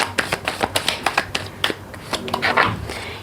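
Tarot cards being shuffled by hand, a quick run of crisp riffling flicks and slaps, close and fairly loud, with no talk.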